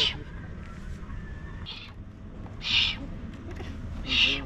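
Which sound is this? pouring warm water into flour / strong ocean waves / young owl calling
young owl calling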